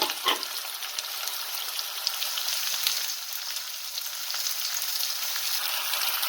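Potatoes and onions frying with cumin in a hot pan give a loud, steady sizzle that holds throughout, opened by a brief clatter as they go in.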